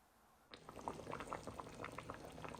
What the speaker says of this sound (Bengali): দরকার পড়লে গরম পানি দিচ্ছি একদম ফুটন্ত পানি